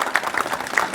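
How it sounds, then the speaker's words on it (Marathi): Brief scattered clapping rises from an audience at a Dr. Babasaheb Ambedkar Jayanti gathering, a second of uneven patter with a few sharper claps standing out. "टाळ्या वाजवा एकदा."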